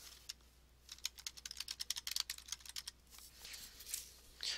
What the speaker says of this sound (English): you're going to type in the name of the task